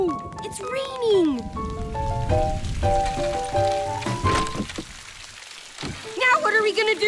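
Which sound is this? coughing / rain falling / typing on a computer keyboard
rain falling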